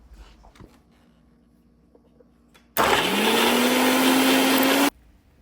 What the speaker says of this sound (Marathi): हे दोन्ही आपल्याला मिक्सरमध्ये बारीक करून घ्यायचं आहे